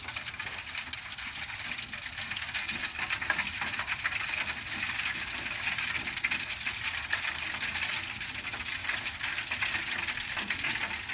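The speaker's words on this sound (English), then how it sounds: "From there, you kind of just stir and stir." Skate wax melting in a pot is stirred steadily, giving a continuous bubbling, sizzling hiss with faint scraping, close and even throughout, with no voices.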